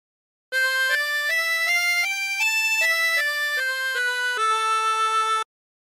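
A 24-hole tremolo harmonica plays a phrase of the carol God Rest Ye Merry Gentlemen, a clear, loud run of about a dozen sustained, wavering reedy notes stepping up and down in melody, alone with no voices.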